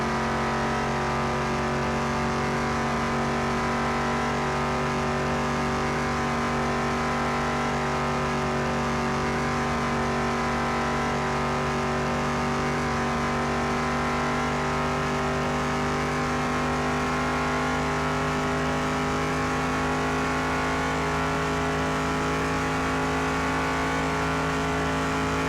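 A car engine in Car Mechanic Simulator 2021 drones loudly and steadily as the car is held at speed through a corner, with a constant whine of revs and no talk.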